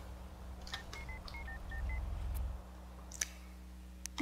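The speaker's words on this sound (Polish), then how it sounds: "To już zadzwoń po" Telephone keypad dialing in The Sims 2 as a call is placed for services: a quick run of distinct tonal beeps in an uneven rhythm, followed by a few sharp clicks over a steady low game hum.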